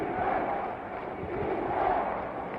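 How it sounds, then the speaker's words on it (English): A roaring arena crowd at Game 7 of the 1970 NBA Finals, Los Angeles at the New York Knicks, swells and surges in a continuous, muffled wall of cheering heard from within the stands. "And listen to that intimidating crowd."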